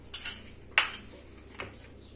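Metal baking tray loaded with meat slid into a home oven: a couple of light clinks followed by a sharper metallic clatter and a faint later knock, close and fairly quiet with no talk.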